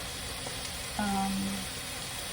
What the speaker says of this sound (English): you can hear the cabbage frying. It's no longer steaming, it is frying